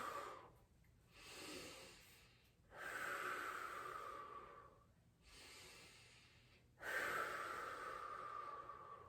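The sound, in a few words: deep breathing during hip mobility exercise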